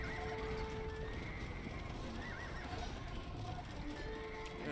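Horse cavalry in the video game Age of Empires II: continuous clip-clopping hooves and occasional neighs over a busy battle background, steady and moderately loud.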